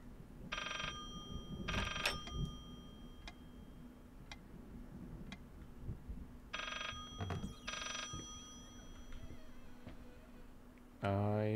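An old-style telephone bell rings in short paired bursts inside the horror game Layers of Fear, repeating twice with a clock ticking steadily beneath and a quiet room ambience.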